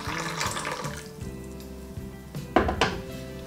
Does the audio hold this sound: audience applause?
no